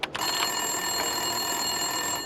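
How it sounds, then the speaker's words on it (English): In Max Payne 2, a desk telephone in an office rings with a continuous electronic trill after a short thump, steady and fairly loud against a constant hum. "Winterson's phone was ringing."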